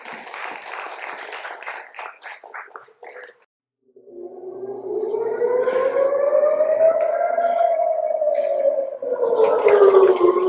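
Clattering applause-like noise gives way to a long air-raid siren in Tel Aviv wailing, rising and falling slowly, loud and steady.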